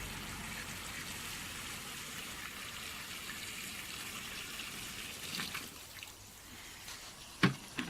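Hot water running from a household tap into a 6-foot round Chad Valley paddling pool, a steady broadband gush that persists throughout, with a few brief splashy bursts near the end.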